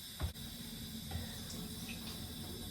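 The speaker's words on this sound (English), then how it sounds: "And then rinse them in the sink under cold water." Cold tap water runs into a sink as dyed clothes are rinsed under it, a steady splashing stream with a couple of soft knocks near the start.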